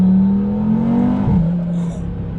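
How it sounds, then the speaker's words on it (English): An Audi TT accelerates hard in second gear, its engine a loud, close, sustained drone that climbs steadily in pitch with a brief dip midway and no voices. "That is crazy how much acceleration it has there and how quickly it can pull away"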